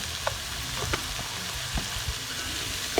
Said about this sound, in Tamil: வெங்காயம் வணங்குறதுக்காக கொஞ்சம் உப்பு போட்டுக்கிறோம்